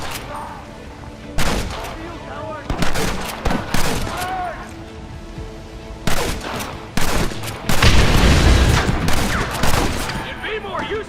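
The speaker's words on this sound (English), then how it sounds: "You man the Gatling gun, Marston!" A Gatling gun in the Western video game Red Dead Redemption fires loud, sustained bursts of rapid gunfire amid a chaotic battle, with shouted voices mixed in.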